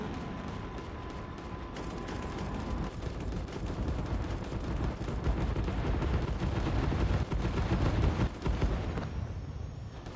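Dense, continuous gunfire and explosions from a shooter video game roar loudly and without pause for the whole stretch, with rapid automatic bursts layered into a heavy barrage.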